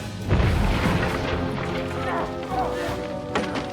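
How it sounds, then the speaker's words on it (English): Cannon fire booms in a medieval battle scene from the video game Kingdom Come: Deliverance II, a heavy blast followed by rumbling and clatter under battle noise. "Was that the cannon?"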